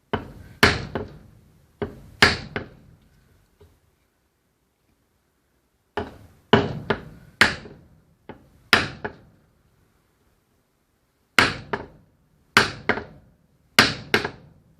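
A wooden handle is hammered into the head of a homemade hammer, sharp hard knocks landing in uneven bursts of two to four with pauses between, close and clear with no talking.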